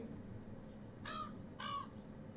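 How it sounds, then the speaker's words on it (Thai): Two crows caw in the video game Stardew Valley Expanded, harsh and fairly loud calls about half a second apart over a faint ambient backdrop. "ฉันอาศัยใกล้ ๆ กับป่าก็จะมีพวกมันมาใส่อยู่บนต้นไม้เพียบเลย พวกอีกาบ้าบอเอ้ย"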